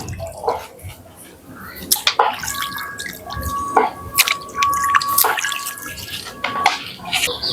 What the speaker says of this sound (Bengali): মটনটাকে ভালো করে ধুয়ে নেবো